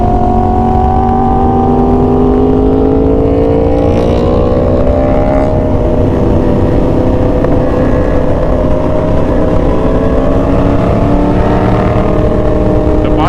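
A motorcycle with a loud aftermarket exhaust revs and idles continuously, the engine note rising and falling in a deep, raspy drone.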